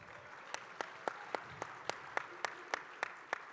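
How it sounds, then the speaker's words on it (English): Faint, evenly spaced claps ring out about four times a second in a quiet hall, a sparse, steady patter of applause at a fireside-chat leadership event of the RJC. "how about an applause to the RJC?"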